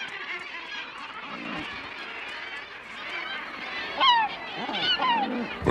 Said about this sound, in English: At the top of the cliff, glaucous gull chicks are hungry too.